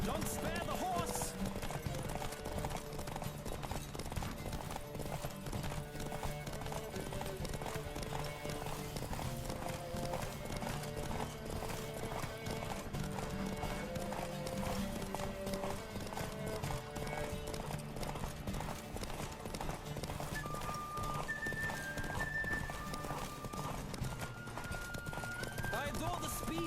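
Hooves of a galloping horse in a video game race clatter in a quick, steady rhythm under continuous game music, with occasional voices.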